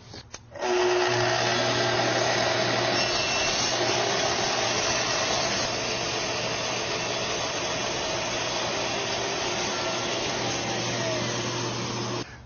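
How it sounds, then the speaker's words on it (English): A Festool saw with a parallel guide extension rips a 2 millimeter strip, a loud steady high-pitched motor whine starting suddenly and holding level for over ten seconds, close and alone. "So we're taking off 2 millimeters plus the width of the saw blade."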